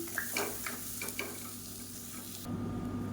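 Samba rava roasts in a pan with onion and garlic, a close steady sizzle broken by taps and scrapes of stirring, with a steady hum underneath toward the end.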